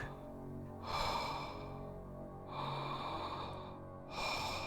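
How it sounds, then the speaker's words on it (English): Slow, heavy breathing in a visual novel video game: three drawn-out breaths, each a loud, airy exhale or sigh, repeating at an even pace at close range with no talk. "I hear breathing."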